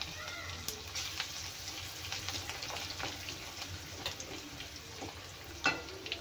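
Crushed garlic cloves frying in hot tempering oil with asafoetida, a soft steady sizzle with light crackles and a few stirring clinks, fairly quiet and close, with no talking.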